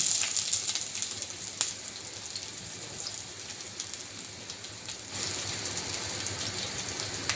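Chopped onion hisses and sizzles in hot oil with bay leaf and dried red chilli while a chhana kofta curry is being made. The steady, dense frying crackle grows a little louder partway through.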